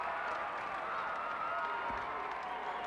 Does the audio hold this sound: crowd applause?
yes